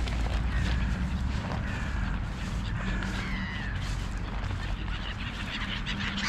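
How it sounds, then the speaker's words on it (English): Seagulls, including mew gulls, call repeatedly at an evening bird feeding, short honking cries rising over a loud, dense background of wind and outdoor noise. "There's our little gulls."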